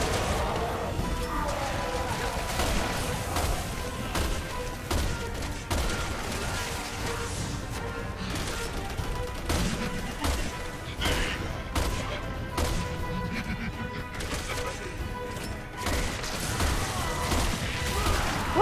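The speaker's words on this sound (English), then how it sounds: "Where are you shooting from?" Gunfire in the co-op shooter Resident Evil 6, repeated sharp shots and crackling bursts going on steadily throughout, fairly quiet under a dense mix of game noise, with players talking at times.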